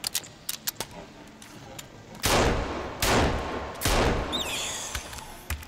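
Gunshots fire in the survival game Sons of the Forest: a quick run of sharp clicks and snaps, then three heavy reverberating shots spaced about a second apart, with a brief voice near the end.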